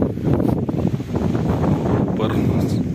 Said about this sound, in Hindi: इधर आप देख सकते हो काफी शानदार हवा चल रही है